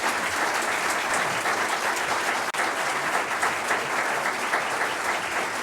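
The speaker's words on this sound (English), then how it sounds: "let's give a round of applause to our candidates over here" Steady, dense applause from the audience at a city aldermen candidate forum, fairly loud and even throughout, with one brief sharp click partway through.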